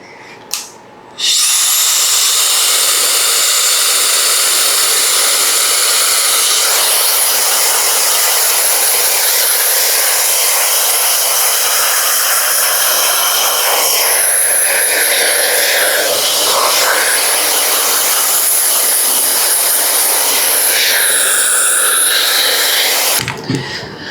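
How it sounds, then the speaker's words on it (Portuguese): A hair dryer at maximum heat and power roars loud and steady for over twenty seconds while drying hair for a crop haircut, its pitch wavering slightly as it moves, then cuts off abruptly. "Eu vou colocar o secador na temperatura máxima e na força máxima, tá?"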